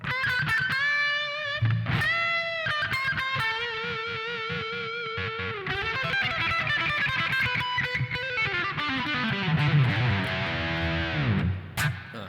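Electric guitar through a Boss ME-25 multi-effects unit with delay and reverb, distorted melodic lines and bends trailing into echoing repeats, played continuously without talking.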